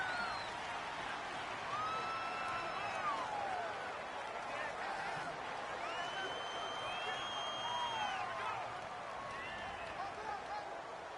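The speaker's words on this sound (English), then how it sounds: "The crowd's not doing that O-line any favors." Stadium crowd noise in the football game Madden 19 forms a continuous roar under a commentator's voice, with rising whistle-like tones drifting across it.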